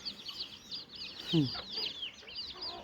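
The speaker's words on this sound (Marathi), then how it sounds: "केवढे आहेत कोंबड्या बघ ती बारकी आहे" Village chickens cluck and chirp near and far in a farmyard, with a louder clucking burst in the middle and faint background voices.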